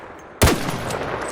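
A single sharp shot from the Eagle gun in the ARC Raiders video game cracks out close and loud, followed by a brief ringing tail.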